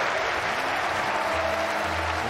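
A large arena audience at the Rocket League esports finals, NRG against Vitality, gives steady sustained applause that fills the whole short stretch, with a faint commentator voice underneath.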